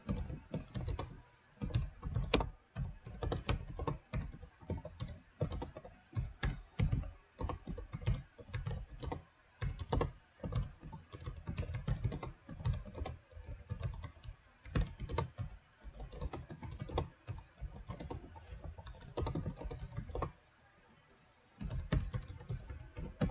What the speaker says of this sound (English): Should keep him distracted long enough for me to do some typing.